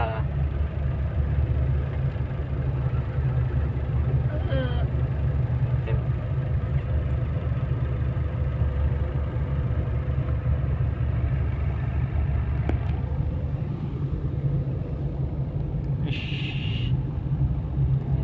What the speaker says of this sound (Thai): วันนี้เรามาข้ามเรือโป๊ะ โดยจะเอารถยนต์ลงเรือ